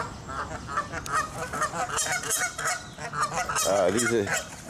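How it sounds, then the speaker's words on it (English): Two Canada geese honk repeatedly at close range, with loud nasal calls bursting out in irregular runs over a busy outdoor background. "these are the two crazy Canadian geese"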